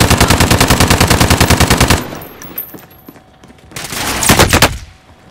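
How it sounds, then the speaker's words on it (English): Automatic machine gun fire in Call of Duty: Modern Warfare, a loud rapid steady burst lasting about two seconds, then a lull and a second sustained burst. "Taking fire!"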